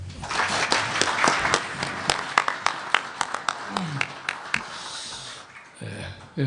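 An audience at a Kwanhun Club invited-guest forum claps to welcome former 18th National Assembly Speaker Kim Hyung-o, with crisp individual handclaps in a loose, uneven patter that thins out and stops near the end.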